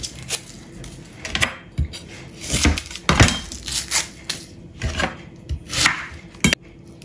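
A large onion is chopped on a cutting board for pork menudo, with loud, close knife strikes in uneven bursts, some quick runs of chops and scraping between them.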